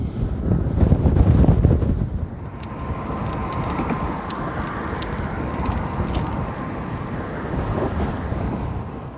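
Strong wind buffeting the microphone while riding across a coastal bridge on the Outer Banks, a loud gusty roar at first that eases into a steady windy rush.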